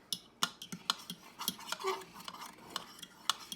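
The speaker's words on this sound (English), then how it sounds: "Use a little fork, okay? Can you mix it real good?" A little fork clinking against a bowl while egg is mixed for whole wheat blueberry muffins, a series of light, irregular taps and scrapes, close and fairly quiet.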